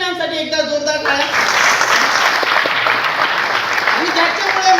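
Loud, dense applause from an audience at a company gathering, starting about a second in after a brief stretch of voice and then sustained steadily to the end.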